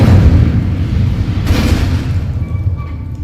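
The Incendio fire spell is cast in the video game Hogwarts Legacy, giving a deep rumbling whoosh with a brief flare partway through that fades into a softer tail.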